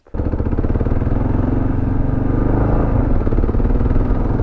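A 2022 Kawasaki KLR 650 adventure motorcycle ridden off road, its single-cylinder engine kicking in abruptly and then droning loud and steady at a constant pace, close to the rider, with no talk.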